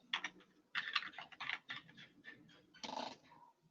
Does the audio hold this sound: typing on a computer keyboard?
yes